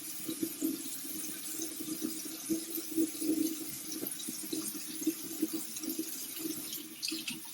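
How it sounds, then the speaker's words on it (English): Hot water runs from a bathroom tap into a sink while a washcloth is warmed, a steady close splashing rush with small gurgling flickers and no voices. "I'm just turning my hot water on."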